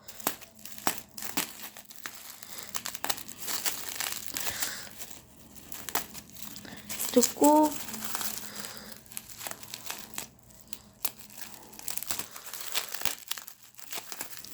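Intermittent crinkling and tearing sounds of packing tape being pulled from a cardboard parcel, close up, with brief quiet gaps and a short spoken word.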